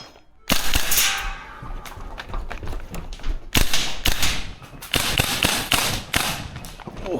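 VFC URGI V3 gas blowback airsoft rifle firing in a series of sharp mechanical cracks, some in quick bursts and some spaced apart, loud and close with metallic bolt clatter.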